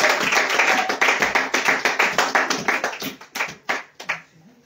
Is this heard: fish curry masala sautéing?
no